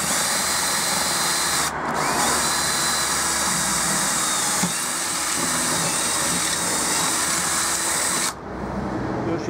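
A power drill bores holes through a template plate while fitting an integrated lock, with a loud, steady whine running for several seconds between brief pauses.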